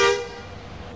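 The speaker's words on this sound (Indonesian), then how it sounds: "Untuk klakson 2." A single bus horn in Bus Simulator Indonesia, set up with a Mercedes OH1626 sound mod, gives one loud, bright honk that starts strongly and decays into a fading tonal tail.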